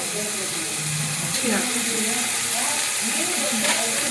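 Vegetables with curry leaves and hing fry in a pan with a steady, loud hiss and sizzle throughout, while a voice murmurs faintly underneath.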